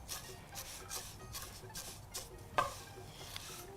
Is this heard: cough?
no